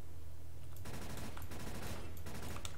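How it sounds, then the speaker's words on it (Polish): Rapid gunfire crackles in a CS:GO match, dense repeated shots in two close bursts over a steady loud game backdrop. "Banie mu strzeliłem."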